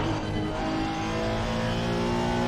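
A 2018 Honda NSX race car at Spa in Assetto Corsa Competizione, its engine revving hard and steadily high in the power band, loud and continuous with no pauses.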